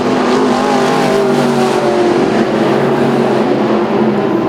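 IMCA Sportmod race cars run side by side at Arizona Speedway, a continuous loud roar of several engines held steady and close, with no break or pause.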